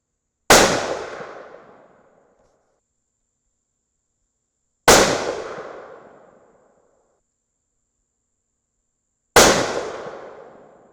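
A 6.5 Creedmoor Thompson Center Compass rifle fires three loud, close shots, evenly spaced about four seconds apart. Each crack rings out into a fading tail, with silence between shots.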